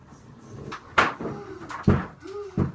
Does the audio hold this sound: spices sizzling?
no